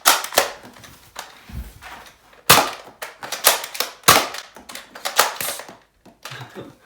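Sharp, close pops from a Zuru X-Shot Bug Attack Swarm Fire toy blaster being slam-fired, about a dozen quick irregular shots in rapid bursts with brief gaps, with no talking.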